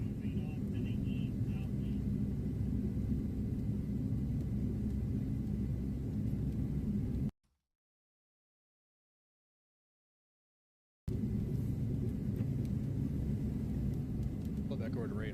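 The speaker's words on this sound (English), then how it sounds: "we can definitely got some thunder rumbles going on behind us" Distant thunder rumbles low and steady beside a highway during storm chasing, with a break of silence partway through.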